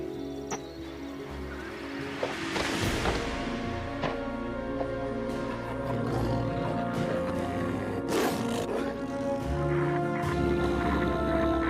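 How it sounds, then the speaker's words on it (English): A pack of wolves growls and snarls in a dramatized mythological scene, low rumbling growls swelling with sharper snarls and roars amid ambient accompaniment, moderately loud and continuous. "the men are surrounded by a pack of wolves"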